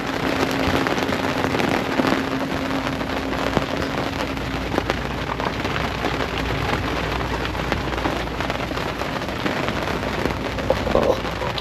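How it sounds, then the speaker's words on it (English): Heavy rain pours down on a sailboat during a thunderstorm, a dense, loud, continuous patter of drops hitting the deck, steady throughout with no talking. "It's the first big rainstorm that I've had it in a while."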